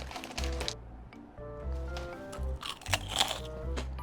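Crunchy glutinous rice seaweed chips and Korean hanwoo beef yukhoe eaten together, giving close, loud bites and crisp crunches in an irregular chewing rhythm with no talk.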